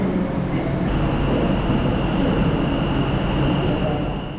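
Steady loud rumble of a London Northwestern Railway Class 730 electric passenger train departing for Tring, with a constant high whine from the motors and a brief metallic click near the start.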